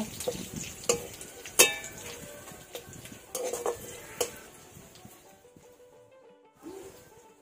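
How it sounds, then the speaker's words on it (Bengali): Cumin seeds and whole cardamom pods fry lightly in a pan, heard as a soft sizzle broken by sharp clinks and scrapes of a spoon stirring against the metal, which fade near the end. "এই শুকনো উপকরণগুলো হালকা একটু ভেজে নেব।"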